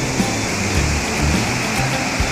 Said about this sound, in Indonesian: Oh, penampakan bendungan Selis. Asli berisik banget begini, cuy.